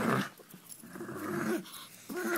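A small chihuahua growls and pants while tugging on a toy in a game of tug of war, low rumbling growls broken by short breathy bursts, close and fairly quiet.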